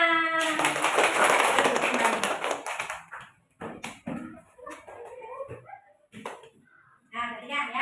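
Classroom clapping during a lesson supervision, a loud burst of hands clapping together for about three seconds, followed by a teacher's voice speaking close by.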